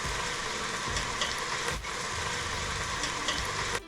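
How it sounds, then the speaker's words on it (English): Wine hits a hot pan to deglaze it, giving a steady, close sizzle and hiss that runs the whole time with faint scraping, no voices. "you're gonna add your wine and you're gonna deglaze the pan and cook off the alcohol"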